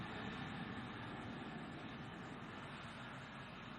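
A Boeing 747-400 jumbo jet lands at Sydney International Airport after a flight from London, with a steady, broad roar of jet engines holding constant from start to finish, with no speech.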